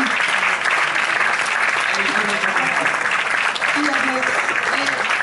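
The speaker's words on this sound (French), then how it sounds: "Et on les applaudit très fort." Audience applause for film actors called onto a stage at an evening screening, a dense, steady wash of many hands clapping throughout, loud and continuous with faint voices underneath.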